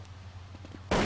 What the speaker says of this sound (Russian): Бомба взрывается.